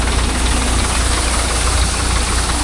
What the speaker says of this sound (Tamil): ஆனால் வண்டி தான் மிஷின் கூட சத்தம் அதிகமாக வருது.